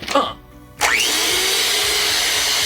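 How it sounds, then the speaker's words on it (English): A blender mixer set to puree, starting with a brief whir, dropping, then surging into a loud, steady high-pitched motor whine with a faint rhythmic pulse underneath. "You're gonna set the mixer to puree for 14 minutes"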